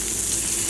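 Pearl spot fish frying in oil in a pan, a steady, close, bright hiss of sizzling with no break.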